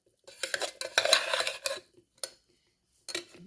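Moringa leaf pulao is scooped from a pressure cooker into a bowl, with a series of quick metal spoon scrapes and clinks against the pot, then pauses and a few more clinks, close and moderately quiet.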